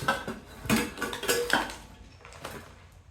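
A heavy Prestige 3-litre pressure cooker is handled, giving several close metallic clanks and knocks of pot and lid in an irregular rhythm before fading to quiet.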